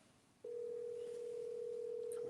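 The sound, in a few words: telephone dial tone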